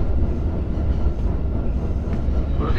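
A JR Joban Line local train sits at a station, its low steady rumble and hum filling the space without pause, with no voices heard.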